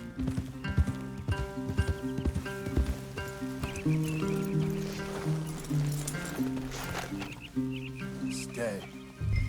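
Horses' hooves in the video game Red Dead Redemption 2 clop in an uneven rhythm with occasional thuds, heard under people talking and a steady musical backing.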